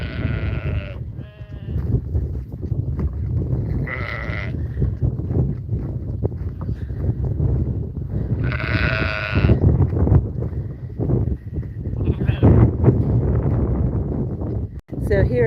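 Blackbelly ewes in a farm pen bleat repeatedly at close range, with hooves shuffling and people talking throughout.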